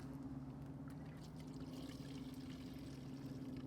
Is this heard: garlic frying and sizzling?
no